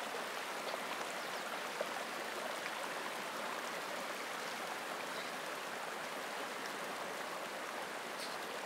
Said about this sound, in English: It's faster water.